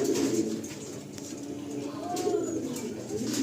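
Racing pigeons coo inside a loft near Bongaon, Kolkata, with soft, low, rolling calls repeating close by over a steady background murmur.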